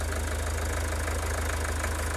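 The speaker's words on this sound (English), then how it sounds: "you notice on the decreased pressure the engine goes quieter, and you can see it's struggling now to run" A common rail diesel engine runs steadily and loudly with a dense, rattling mechanical clatter and a fast regular knock underneath, close up, while fuel pressure is being raised; no one speaks.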